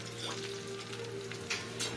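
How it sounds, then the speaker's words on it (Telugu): Chicken pieces fry in oil with a continuous bubbling sizzle and scattered pops, steady and close for a couple of seconds. "సో ఇప్పుడు బాటమ్ సైడ్ ఫ్రై అయిపోయింది కాబట్టి రెండో సైడ్ కూడా తిప్పుకొని మనం బాగా ఫ్రై చేసుకుందాం."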